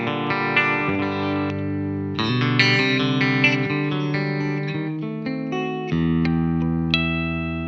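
Electric guitar played through the reverb effect of a Fender Mustang Micro headphone amp, chords and picked single notes blooming with a smooth reverberant tail, clean and steady without any talking.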